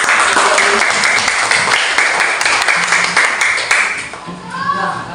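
Students applauding in a classroom, dense steady clapping from a group that tapers off near the end while voices murmur underneath.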